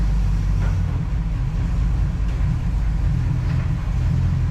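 A 1969 Plymouth Fury III idles in reverse gear with a steady, loud low engine rumble that holds evenly throughout, with no voices.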